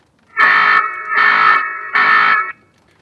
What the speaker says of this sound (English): I like this alarm feature here as well,